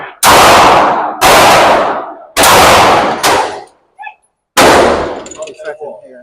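Four loud, sharp handgun shots from an everyday-carry pistol crack in quick succession, each with a brief ringing decay. A short metallic clink follows, then a fifth shot, all at close range at an indoor range.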